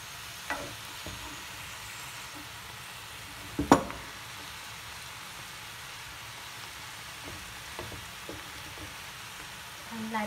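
Vegetables stirred in a pan during a vegan, gluten-free stir fry, giving a low steady sizzle with a few scraping stir sounds and one sharper clatter near the middle, with no voices.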